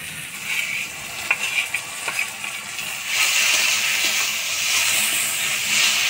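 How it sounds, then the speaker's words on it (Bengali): Ground spice paste fries with onions and tomatoes in a pan, with a few utensil scrapes at first, then a louder, steady hiss and sizzle. "এবার দিয়ে দিব বাটা মশলা।"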